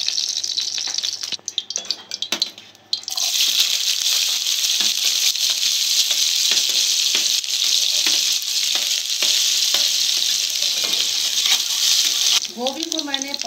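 Oil heating in a hot kadhai gives off a steady, loud broadband sizzle that runs almost continuously, with a short quieter break near the start and a brief higher tonal sound at the end.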